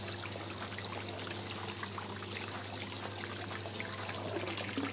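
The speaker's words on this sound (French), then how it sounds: "on laisse le jet d'eau à l'intérieur là et on lance la pompe." Water flowing from a jacuzzi jet as the pump runs in filtration mode, a constant close rushing and trickling wash with a steady pump hum underneath.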